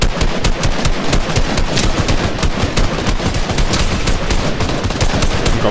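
Rapid, sustained SCAR rifle fire in a Fortnite match, loud and dense, with shots hammering continuously throughout and no voices over it.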